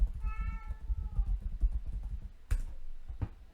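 A cat gives one clear, drawn-out meow near the start, followed by quieter background rustling and a couple of sharp clicks.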